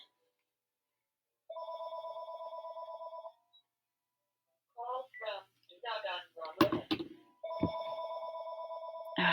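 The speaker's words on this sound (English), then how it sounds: "Sorry, that is our Stage Nature Center phone." A telephone at a nature center rings in two long electronic bursts, with a stretch of people talking between them. The ringing is clear and fairly loud.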